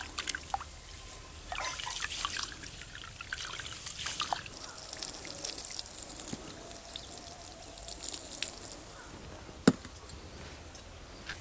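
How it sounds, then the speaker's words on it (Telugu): Two glasses of rice being rinsed by hand in water, washed two or three times: soft, faint trickling and sloshing throughout, with scattered small splashes and one sharp clack near the end. "2 గ్లాసుల బియ్యం శుభ్రంగా 2-3 సార్లు కడుక్కొని నీళ్లు వేడెక్కే వరకు నానబెట్టుకుందాం."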